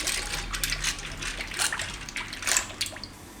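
Dry pasta is rinsed in water in a home kitchen before boiling, with soft, close splashing and trickling that comes in small irregular bursts at low volume.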